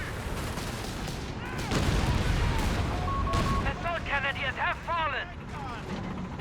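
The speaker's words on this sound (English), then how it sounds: "Is FeriG throwing his mortar for some reason?" Mortar and artillery fire rumbles in a Company of Heroes 3 battle, with heavy booming blasts and crackling explosions layered with chirpy game sound effects while a commentator talks over the action.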